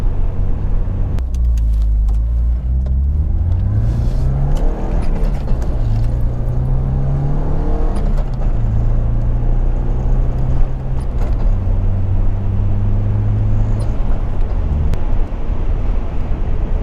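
A Porsche 944 engine drones loudly and steadily while driving, its low rumble rising and falling through several gear changes, with no talk over it.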